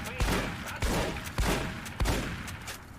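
Rapid gunfire from the player's weapons in a video game, loud sharp shots repeating in a steady rhythm roughly every half second, close and prominent, alone without talk.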